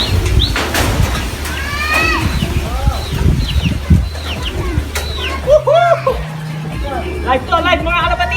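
Racing pigeon arriving at a derby loft, with brief wing flaps and scattered bird calls amid a busy outdoor crowd, heard under steady talk.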